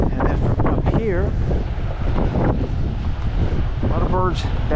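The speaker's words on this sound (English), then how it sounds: "Very, very windy." Strong wind on a Pensacola, Florida beach buffets the microphone in a loud, continuous roar, with voices and bird-like chirps breaking through now and then.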